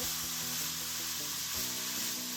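Shredded cabbage frying in a hot pan with coconut aminos for egg roll in a bowl, giving a dense, continuous close sizzle broken by a few stirring scrapes and knocks.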